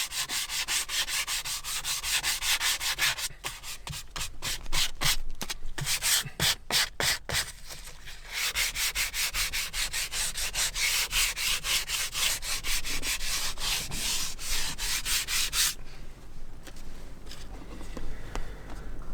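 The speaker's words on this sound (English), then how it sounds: "I'm going to go back to my 220 grit sandpaper." A steering wheel repair is sanded by hand with 220 grit sandpaper, giving a close, continuous scratchy rubbing with fast back-and-forth strokes, a stretch of rapid short rhythmic passes, then softer rubbing at the end.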